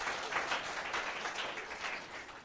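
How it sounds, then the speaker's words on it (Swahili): An audience at a Kiswahili arts performance by students of St. Mary's School, Kawangware, claps steadily, a soft, fairly distant wash of applause that continues evenly throughout. "Piga makofi."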